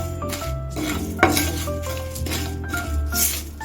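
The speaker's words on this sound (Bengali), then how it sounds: "এখন আমি এগুলো একটু শুকনো খোলায় ভেজে নেব।" A metal spoon scrapes and clinks against a dry pan as spices for raw mango pickle are stirred and dry-roasted, with a faint sizzle underneath.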